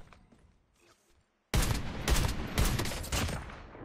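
A Mythic DLQ rifle in Call of Duty Mobile fires in a loud burst of heavy, booming gunshots that starts abruptly after a quiet lead-in and continues in dense, repeated cracks before trailing off.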